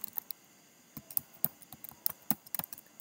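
A computer keyboard is typed on at a desk in quick irregular clicks and taps, some grouped in short runs, faint and close with no voices.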